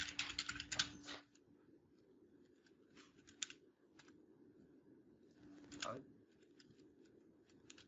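Scattered clicks of a computer keyboard being typed on at a desk, in quick flurries with pauses between, faint and close, with no talking.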